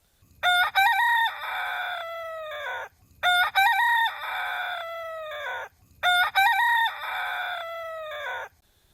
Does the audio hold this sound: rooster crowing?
yes